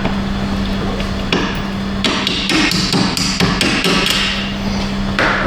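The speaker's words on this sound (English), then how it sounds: "We get a hammer and see if we can knock that strut bolt out of there." A hammer knocks at a strut bolt on a Dodge Charger during rear coil spring replacement, with a run of sharp metallic strikes, some quickly repeated, loud and close over a steady background hum.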